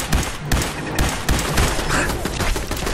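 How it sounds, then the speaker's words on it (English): Machine gun fire in Fallout 4, rapid loud bursts of gunshots crowding one another, with brief gaps between volleys and faint speech underneath. "Destroy this freaking machine gun!"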